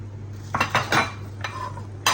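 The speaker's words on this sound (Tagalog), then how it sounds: "Mix ko lang ito ang asukal." A spoon stirs sugar into a mixture in a bowl while making palitaw, a Filipino sweet rice cake, giving a few scraping clinks close by, with a low steady hum underneath.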